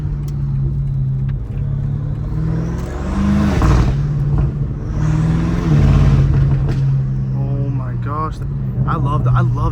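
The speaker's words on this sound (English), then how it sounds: "Turbo noise, so the turbo's sucking in, turbo whistle, and V8 form." A straight-piped BMW M5 Competition with a turbocharged V8 revs and swells loudly, its exhaust roaring up and down with a turbo whistle rising over it, while people talk excitedly throughout.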